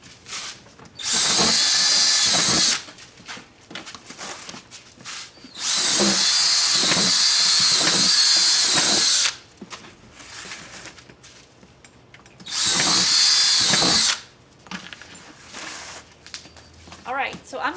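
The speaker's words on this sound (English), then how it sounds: "I drill holes in the top part of the bin." A power drill bores holes in the top of a plastic Rubbermaid tote bin, three loud sustained whirring bursts of a couple of seconds each, separated by quieter handling and rustling of the plastic.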